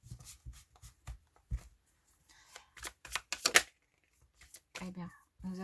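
Tarot cards being shuffled in short papery riffles and flutters, close and soft, interrupted by bursts of French speech.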